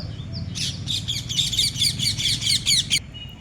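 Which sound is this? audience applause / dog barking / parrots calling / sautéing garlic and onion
parrots calling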